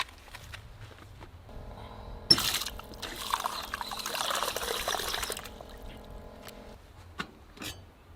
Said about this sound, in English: Tear the pouch open, add a cup of boiling water, stir and reseal